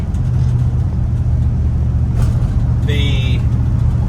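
A car on a test drive on a warm day, with a steady low engine and road rumble close by throughout and a brief higher tone partway through.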